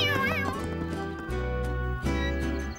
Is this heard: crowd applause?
no